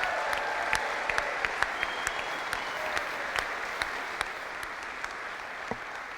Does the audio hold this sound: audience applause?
yes